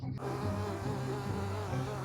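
Bees buzz around a dog at a hive in a mobile video game, a low droning hum that wavers continuously at moderate volume, with no voices over it.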